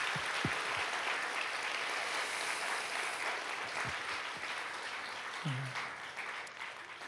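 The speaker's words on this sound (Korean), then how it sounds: "우리 하나님께 영광의 박수 드립시다." Church congregation applauding during a New Year's Eve worship service, a soft, distant, continuous patter of many hands that fades slightly toward the end, with faint murmurs.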